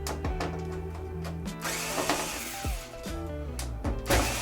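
Small power driver fitted with a number 1 Phillips bit backing screws out of an RCA LED50B45RQ LED television, a close whirring motor that revs up and down in short bursts with slight pitch changes and no talking.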